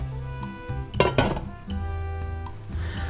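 Tomato soup with broth is stirred in a covered pot over medium heat, giving clinks and scrapes of a utensil against the pot, with a brief louder burst of clatter near the middle and a low background hum throughout.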